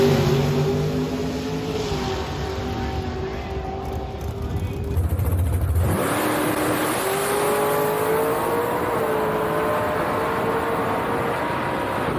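Drag race cars launch and run down the racetrack in a bracket race, a loud sustained engine roar with a shift in pitch partway through, with announcer talk faintly underneath.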